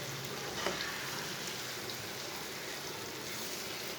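Boiled masoor dal being stirred into fried eggs in a hot pan, a steady soft sizzle and wet scraping that runs evenly throughout, close and moderately quiet with no talking.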